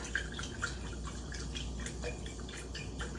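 Water poured into salt to make brine for fermenting bush beans, quiet trickling and dripping splashes in a small container, faint and close with no talk.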